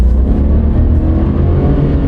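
A truck engine with a 10-speed automatic in towing mode is given gas, a loud, sustained low roar with a steady rising drone and no voices.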